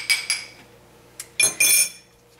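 A whisk clinks against a container while stirring a soap mixture, giving a few short metallic taps and a brief scraping rattle, close and fairly clear with no talking.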